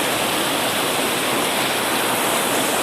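Floodwater rushing in a loud, continuous broadband roar like a torrent or waterfall, close and steady with no breaks and no voices.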